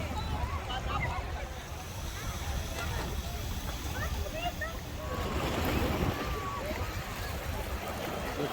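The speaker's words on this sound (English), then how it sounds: "and that is the beach" Waves wash on the beach at Ksamil, Albania, a continuous surf rush mixed with wind buffeting the microphone. Distant voices and faint chatter sit beneath the steady noise.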